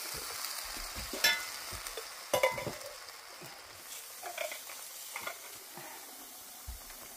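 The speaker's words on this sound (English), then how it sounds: "And give it a good stir." Tomato soup with herbs and broth stirred in a hot pot, a soft sizzling hiss with scraping and knocking spoon strokes, close and fairly quiet, with no talk.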